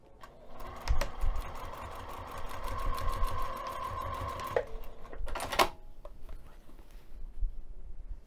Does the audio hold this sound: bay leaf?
no